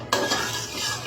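A spoon stirs spices with coconut milk in a pan for a lotus-stem (loti) curry, giving close, steady scraping and clinking that runs without pause.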